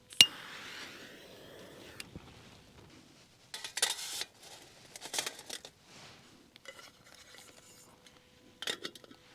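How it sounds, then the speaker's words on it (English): Metallic clinks and clatter of a kettle set down on a small camping stove, with scattered knocks and rustles outdoors at a wild campsite; no talking. "Right, that's the kettle on."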